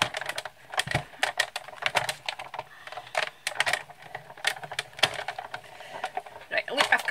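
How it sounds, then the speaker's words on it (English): Scissors or a cutting tool snipping through a scrap of thick Whisper White cardstock at a craft table, giving a run of close, crisp, irregular clicks and snips with faint handling noise in between. "Right, look, I've cut it out now."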